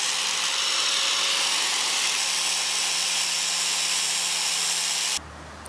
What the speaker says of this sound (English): I just want to do a test cut with the angle grinder